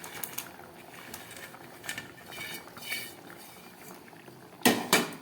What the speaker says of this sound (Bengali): ঝোলটা একদম ফুটে গেছে